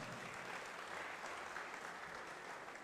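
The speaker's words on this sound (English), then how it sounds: "Give him a big round of applause" An audience at a university orientation event applauds, a steady wash of many hands clapping from across the hall, fairly distant and even throughout.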